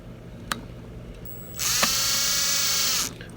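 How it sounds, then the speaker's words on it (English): A low speed drill running to extract a broken stud left inside a Toyan model engine, whirring steadily for about a second and a half after a couple of faint clicks, close to the microphone. "I put it on my low speed drill, and it seems to be working"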